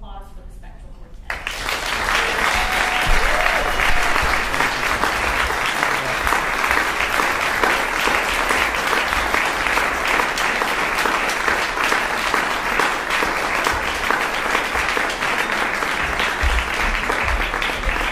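An audience applauds a string quartet at a live concert. Clapping erupts after a brief quiet moment and holds as a loud, even wash of many hands to the end.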